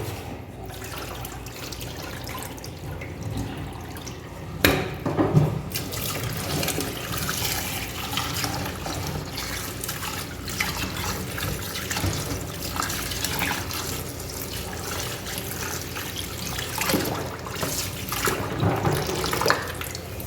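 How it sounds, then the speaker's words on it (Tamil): Basmati rice is washed by hand in a bowl of water for kushka biryani, with steady close sloshing and swirling water throughout and a few louder splashes. "ஸோ அரிசி இப்படி தான் கழுவணும் போட்டு அழுத்த அழுத்த நாள் தானே உடஞ்சிரும் பாஸ்மதி ரைஸ்"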